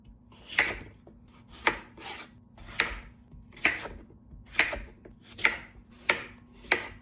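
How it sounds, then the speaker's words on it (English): Potatoes chopped with a knife on a board: about nine crisp, evenly spaced thuds, each with a brief scraping tail, close and clear in a quiet kitchen. "And then chop them this way."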